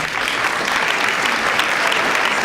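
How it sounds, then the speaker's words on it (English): A crowd at a school board of education meeting applauds the school staff, a loud, dense and continuous burst of clapping that holds steady throughout. "Student Council, join me in applauding our awesome staff."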